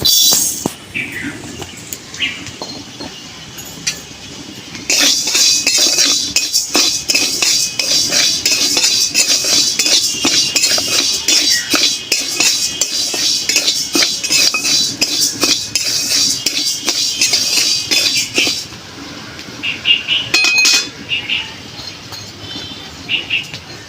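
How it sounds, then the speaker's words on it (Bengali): Mung dal dry roasted in a hot wok, grains rattling and scraping as they are stirred with a utensil in a steady, busy clatter that runs for most of the stretch, then thins out and stops near the end. "দেখুন, আমি এই ডালটা একটু শুকনো খোলায় ভেজে নেব।"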